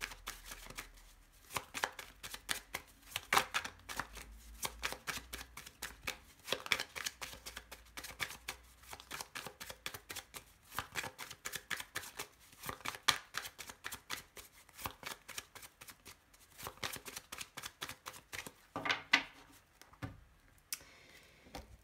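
A deck of tarot cards being shuffled and cut at close range, repeated riffling rustles and soft slaps in steady bursts, no voices.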